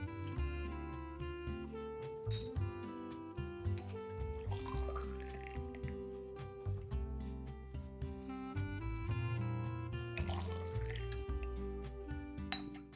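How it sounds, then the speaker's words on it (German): Clean jam jars being rinsed with boiling hot water: glassy clinks and knocks with pouring and splashing water, continuous and fairly quiet, over a steady musical backdrop. "spüle ich schon mal die sauberen Gläser mit kochend heißem Wasser aus"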